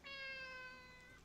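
A single drawn-out cat meow, clear and tonal, rising then fading over about a second, heard alone in a quiet room without voices.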